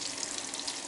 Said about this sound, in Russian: Значит, пополам прожарю каждые кусочки.